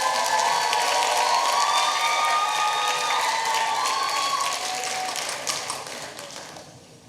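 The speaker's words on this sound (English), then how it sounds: "Let's give an applause." A crowd at a Korean community day celebration in Washington State claps and cheers after a K-pop dance introduction, with shrill whistles over dense applause that fades out toward the end.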